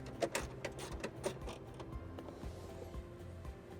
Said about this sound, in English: We'll remove the bolt using a 10mm socket.